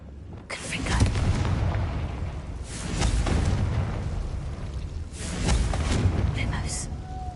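Confringo fire spell in Hogwarts Legacy bursting in three loud, rumbling booms spaced a couple of seconds apart, each swelling and fading into the next.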